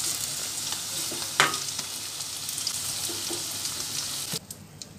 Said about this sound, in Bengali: সবকটা পনির ভালো করে কড়াই দিয়ে হালকা লাল লাল করে ভেজে নিতে হবে।